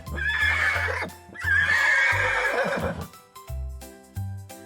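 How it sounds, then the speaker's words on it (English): A horse neighs twice in long, shaky whinnies, loud and close, with brief musical notes between and after the calls. "This is a horse."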